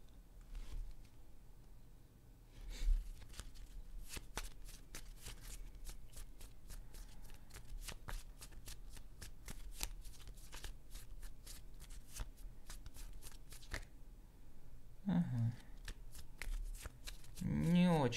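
Playing cards are shuffled for a fortune reading in a long run of rapid riffling and flicking, close and crisp, with brief soft speech near the end.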